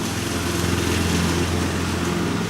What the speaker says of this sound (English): My neighbor's mowing, so I'm sorry if the sound sucks.